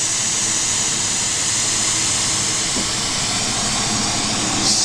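Glassworking torch roaring with a steady, loud hiss as extra oxygen is fed in, glass color boiling at the tip; a continuous broadband rush that never lets up.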